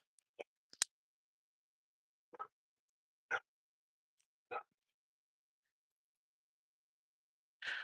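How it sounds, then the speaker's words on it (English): A big Belgian Malinois barks outdoors during a neighborhood walk, giving about five or six sharp, separate barks at uneven gaps. The barks sound fairly faint and some distance away, with silence between them. "That's a big Malinois barking at us."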